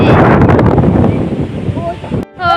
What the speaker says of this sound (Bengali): কিরকম জোরে হাওয়া দিয়েছে হঠাৎ করেই